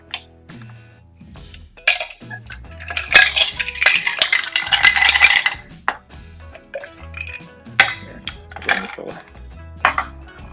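Ice cubes are added to a cup for a Cranberry Mule. A run of clinks and rattles builds to a dense cascade of ice clattering in, then scattered knocks and clinks follow, close and fairly loud.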